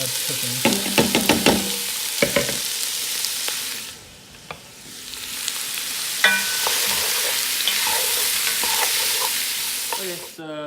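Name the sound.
vegetables sautéing in a hot pan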